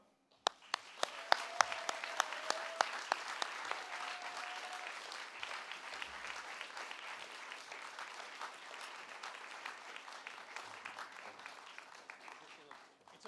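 An audience at a writers' awards ceremony breaks into applause. A few sharp, separate claps come first, then steady clapping that continues throughout.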